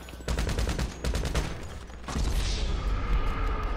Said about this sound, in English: I sniped you with a heavy sniper, and then I switched out to my MG and hit you once with it